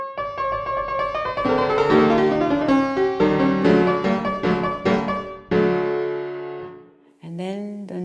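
A fortepiano plays an agitated passage from the first movement of a Mozart sonata, with rapid harmonic notes and chords, a sustained bass tone, and a brief pause before a final chord, alone and clear.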